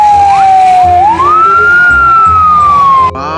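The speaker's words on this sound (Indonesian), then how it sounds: "ini ada mobil pemadam kebakaran." A toy fire truck's electronic siren wails loud and close, a continuous tone that holds steady, sweeps upward and then slowly glides back down before cutting off abruptly.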